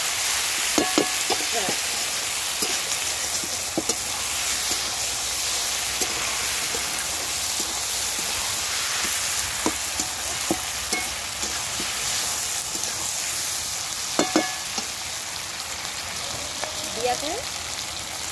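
Spiced food is stir-fried in a pan at home, a constant soft sizzle broken by scattered scraping clicks of a spatula against the pan.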